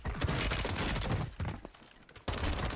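Rapid, hard-hitting XM4 SMG bursts in a Warzone battle royale fight, loud and close, firing in dense repeated volleys with a brief lull near the end before another burst kicks in.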